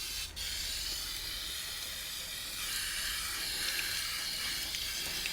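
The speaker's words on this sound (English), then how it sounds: "them a good thorough watering with the hose" A garden hose sprays water onto potted jade plants, a steady close hissing spray that runs throughout with no one talking.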